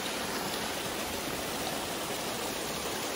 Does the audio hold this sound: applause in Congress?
no